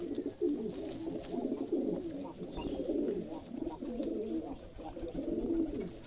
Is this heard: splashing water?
no